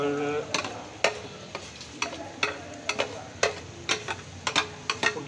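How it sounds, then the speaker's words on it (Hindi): Vegetables going into a hot pan, with a steady sizzle of frying underneath and repeated sharp scraping knocks of a spoon stirring them, close and fairly quiet. "अब हम इसके अंदर जो है वो सब्ज़ी डालेंगे"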